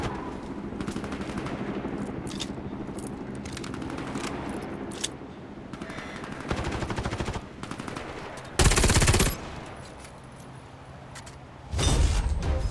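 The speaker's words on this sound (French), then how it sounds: "Ils concentrent leurs tirs sur ce terminal" Gunfire in the shooter game Warface sounds as rapid automatic bursts over continuous action noise, with two loud, dense volleys standing out near the end and no speech.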